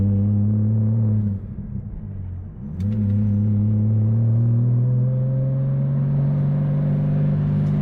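A Porsche fitted with a Fabspeed Supercup exhaust holds around 3,000 rpm, a steady, deep, smooth drone with strong low harmonics, easing briefly before settling back to an even hum.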